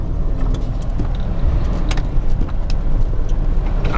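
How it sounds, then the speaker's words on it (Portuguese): Heavy road traffic rumbles past at close range with a deep, continuous engine drone. Faint rattles and clinks sit over it, and no one speaks. "Começou a vir uns outros caminhão grande aqui"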